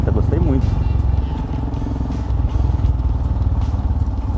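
A Royal Enfield Himalayan adventure motorcycle engine hums steadily with rhythmic low pulsing and some clatter, while someone talks over the riding noise.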